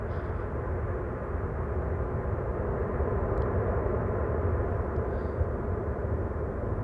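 An airliner touching down at Amsterdam Schiphol, heard as a steady broad roar of engine and rushing air without distinct thumps, fairly loud and continuous throughout, no talk.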